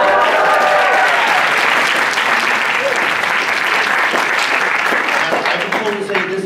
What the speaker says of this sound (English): I want you to applaud really loud.